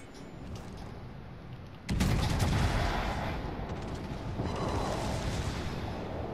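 Secondary guns on a battleship firing in the World of Warships naval game: a loud burst of gunfire breaks in over a steady rumbling background, then continues as a dense, sustained roar.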